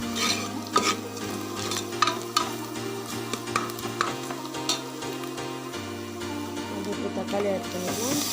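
Vegetables for veggie fried rice sauté in a pan with a constant sizzle and repeated scraping stirs and clinks of a spatula, while a steady low hum runs underneath.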